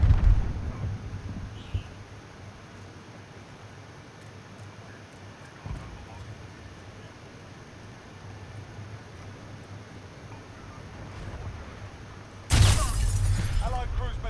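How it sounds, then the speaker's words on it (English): A cruise missile strike in Call of Duty Modern Warfare (2019 beta) lands with a sudden, loud, booming blast near the end, after a long stretch of low battlefield rumble with a few faint distant thuds. "Allied cruise missile."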